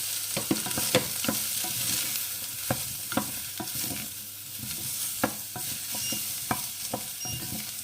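Mushrooms fry in plenty of oil in a pan, giving a steady close sizzle with scattered sharp pops and the clatter of stirring, with no voices.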